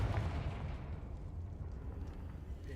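A Confringo fire spell in Hogwarts Legacy bursts with a soft booming blast at the start, then a rumbling, crackling decay fades out over a couple of seconds.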